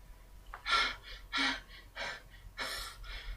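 A voice imitates weary panting: several heavy, breathy gasps in an uneven rhythm, close and fairly quiet.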